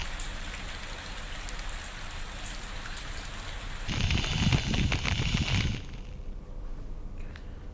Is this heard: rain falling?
yes